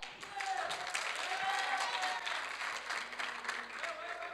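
An audience applauds debate teams at a school debate, with brisk sustained clapping that swells and holds for several seconds, fairly distant and moderately quiet, with some voices underneath.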